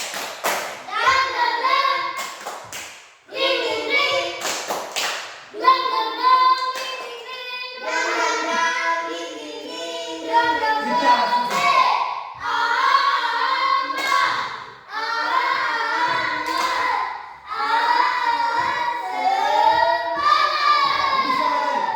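Primary schoolchildren in a classroom stand and perform a rhythmic clapping chant, the tepuk semangat, with sharp group claps in bursts alongside loud chanting voices throughout.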